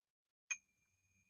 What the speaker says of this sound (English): That's the sound of the bell that I love to hear